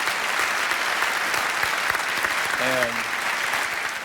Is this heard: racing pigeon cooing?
no